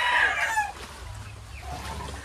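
Chickens cluck and squawk close by as their coop is moved during a typhoon flood, a burst of fowl calls at the start followed by quieter clucking and low background rumble.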